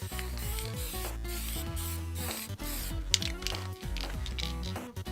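Spray paint going onto a 2000 Jeep Cherokee XJ in repeated close hissing bursts with short pauses between passes, alone with no talk.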